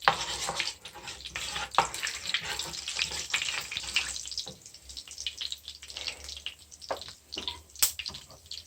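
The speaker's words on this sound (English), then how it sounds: "In that same oil, I'm going to add my fenugreek seed." Fenugreek seeds fry in oil left over from sautéing salmon for a curry, a close sputtering sizzle with scattered pops that fades to a softer hiss.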